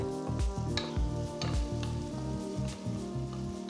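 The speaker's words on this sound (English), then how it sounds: "Saute for a few minutes" Garlic, ginger, chopped green chillies and onion sauté in a pan with a steady soft sizzle, largely covered by louder rhythmic background music.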